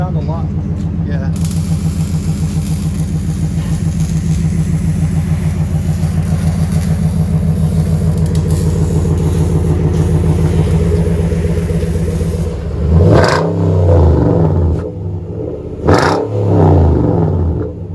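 Deep, loud, steady burble of a 2011 Nissan Titan 5.6L V8 idling through a Flowmaster Super 10 dual-in, single-out exhaust, followed by two sharp throttle blips near the end.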